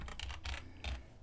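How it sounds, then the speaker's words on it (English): Keys on a computer keyboard tap in a short, quick flurry of a few clustered clicks, close but quiet, with no voices. "let's quickly type in."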